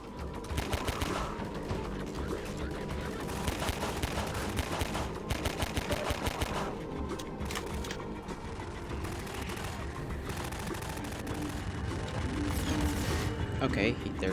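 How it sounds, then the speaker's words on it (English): Enemy soldiers firing in the video game Half-Life 2, with bursts of rapid gunfire and clattering shots repeating over the whole stretch, loud and dense, with a player's voice talking at times under the action. "Wow, they are kind of accurate with their gunfire."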